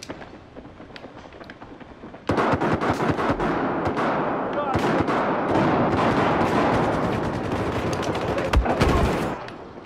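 Rapid gunfire from the Battlefield 4 video game in Gun Master mode, dense bursts of shots and explosions after a quieter start, loud and continuous.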